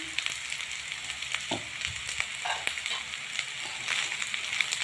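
Green beans sizzling as they hit hot sesame oil with green garlic, a steady crackling fry with faint stirring clicks, close and fairly quiet throughout.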